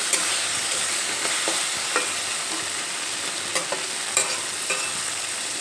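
Tomato paste with spices fries in a pan under a steady, bright sizzle, and a few light clicks of the stirring utensil come through on top.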